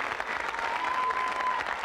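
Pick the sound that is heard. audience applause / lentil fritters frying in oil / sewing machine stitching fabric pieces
audience applause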